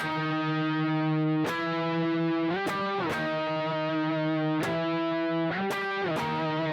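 An electric guitar plays a distorted intro riff, sustained notes with quick slides and picked accents, steady and moderately loud, with no talking.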